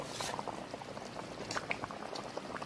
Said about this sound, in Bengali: তরকারিটা এখন ফুটতে থাকুক